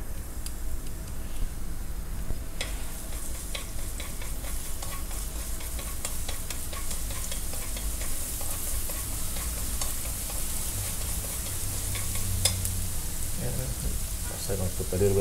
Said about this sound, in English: First put the oil and the garlic.